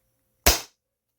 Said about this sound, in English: Actually doesn't hurt it to dry fire at all.